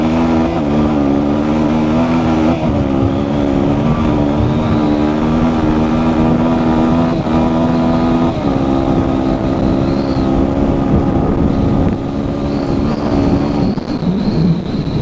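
A 2003 Suzuki DRZ400E off-road motorcycle accelerates hard on a top speed run, its engine a loud, continuous roar climbing through the gears with brief dips at shifts, wind rushing throughout.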